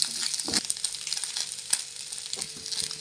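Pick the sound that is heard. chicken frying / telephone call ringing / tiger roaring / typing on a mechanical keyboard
chicken frying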